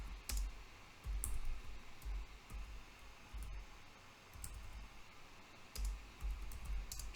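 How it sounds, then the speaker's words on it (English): Typing on a computer keyboard at a desk, a faint, irregular patter of soft key clicks over low background hiss, in short bursts with brief pauses. "Type the test statement again."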